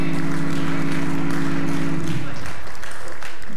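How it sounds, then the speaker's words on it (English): A church congregation applauds during a Sunday Baptist worship service, a dense, steady wash of many hands clapping over a low sustained organ-like tone that fades out partway through. "Yeah, we should clap for that."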